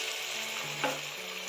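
Steady, loud sizzling of tomatoes added to garlic frying in hot oil for moong dal, with a brief stirring scrape partway through and no voices.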